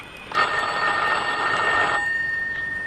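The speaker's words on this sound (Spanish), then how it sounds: "Se sobresaltó cuando escuchó el timbre del teléfono." A telephone bell rings in one long, loud, continuous metallic trill lasting well over a second, close by, then a fainter ringing tail as the sound fades.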